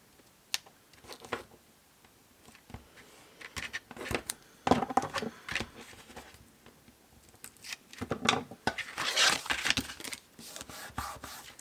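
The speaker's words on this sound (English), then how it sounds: "tear and tape over here" Tape being torn and pressed onto a cardboard box for a triangle tent box, heard as close, crisp ripping and rustling strokes in irregular bursts, louder toward the end, without talking.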